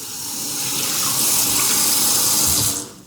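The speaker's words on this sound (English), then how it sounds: "The water doesn't even stick to this thing." Tap water runs steadily over a non-stick griddle in a sink, a broad close hiss that swells, holds for a couple of seconds, then cuts off near the end.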